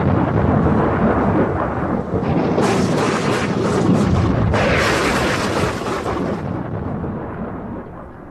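A great storm in an audio drama, heard as a continuous heavy rumble of thunder with rolling booms and hissing rain that swell midway and then ease off toward the end, with no speech.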